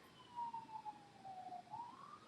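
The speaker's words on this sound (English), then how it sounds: "it's just another siren" A distant emergency vehicle siren wails faintly in one steady, slowly wavering tone with a dip and rise near the end, heard alone without talk.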